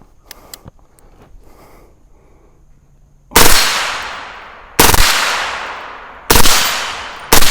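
SIG MCX 300 Blackout rifle with a forced reset trigger firing four sharp, loud shots with ringing decay, spaced about a second and a half apart after a quiet lead-in.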